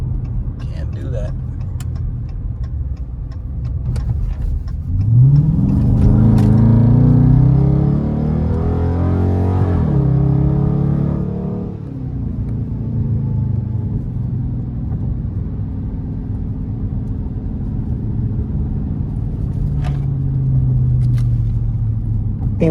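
Car engine revving and rising in pitch during a downshift, loud and close inside the cabin for several seconds before settling back to a steady low drone, with a voice talking over it.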